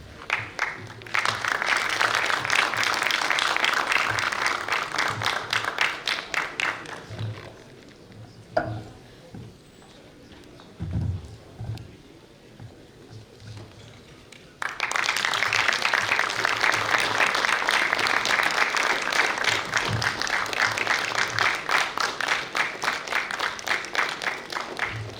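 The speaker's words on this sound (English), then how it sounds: "Let's keep the applaud coming." An audience at a Toastmasters District 41 meeting applauds in two long, loud stretches of dense clapping, broken by a quieter gap in the middle with faint voices and stage noise.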